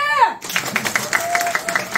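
Audience clapping heartily at a diet club kickoff event, quick rhythmic claps right after a voice in front, with speech over the clapping.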